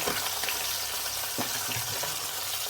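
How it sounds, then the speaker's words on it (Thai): Fish sizzles in a hot oiled pan, a steady, close crackling hiss with occasional louder pops and no voices. "ติดไว้กันกระเด็น"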